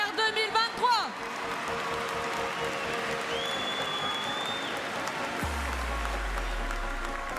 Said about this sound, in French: Je pense qu'on peut applaudir encore Jacquette pour ce prix de meilleure laitière